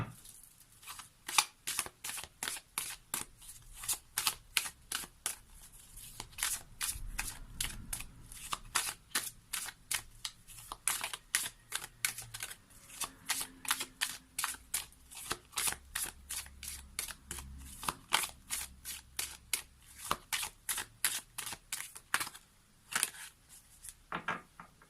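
Oracle cards shuffled by hand produce a long, regular series of crisp, papery snaps and riffles, close and fairly quiet, keeping an even rhythm with brief pauses and no speech.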